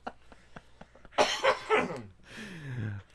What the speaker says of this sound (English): You coughing over there.